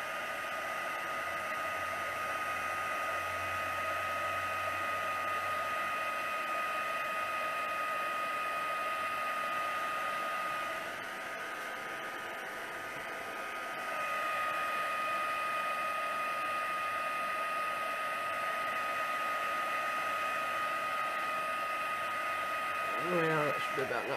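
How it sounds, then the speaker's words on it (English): Heat gun blowing a steady whoosh of air over watercolour-soaked tissue paper, continuous and close, with a short dip in the middle before it resumes at full strength. "Heat gun's cold, so it's going to take a bit."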